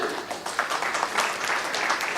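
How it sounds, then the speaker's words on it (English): An audience claps steadily, a dense wash of many hands that stays even throughout with no voices standing out. "A huge round of applause, ladies and gentlemen."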